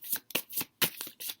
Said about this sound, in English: Trying to do so you guys can see me shuffle